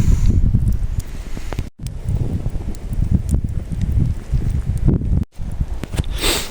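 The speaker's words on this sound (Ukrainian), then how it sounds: "а по боках вітер обвіває сам котілок" Gusty wind roars and buffets outdoors around a cooking pot over an open field fire, a rough low rumble with brief lulls and faint rustling.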